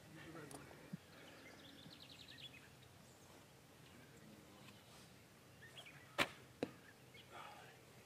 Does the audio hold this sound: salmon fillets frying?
no